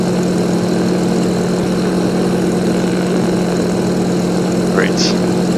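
A propeller aircraft engine in X-Plane 11 drones steadily at full power during takeoff from Dubendorf, Switzerland, a constant loud hum with a low, even tone and a brief faint chirp near the end.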